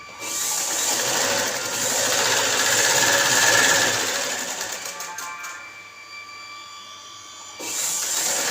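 A sewing machine stitching at home, a fast continuous mechanical whirring and clatter that eases off briefly near the end before resuming.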